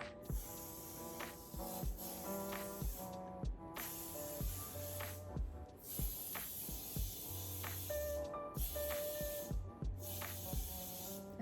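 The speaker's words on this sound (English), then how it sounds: "you are going to take your hairspray and you're gonna set it in place" Hairspray is sprayed onto styled hair in about five loud hissing bursts separated by short gaps, playing over steady background music.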